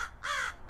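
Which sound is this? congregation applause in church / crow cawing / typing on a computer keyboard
crow cawing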